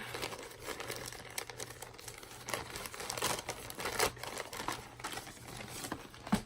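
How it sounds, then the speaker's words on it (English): Plastic packaging for a Zinus Justina Quick Snap mattress foundation slit open with a knife, crinkling and tearing bursts with soft rustles, close and fairly quiet. "Use my trusty knife here. Open up the plastic packaging."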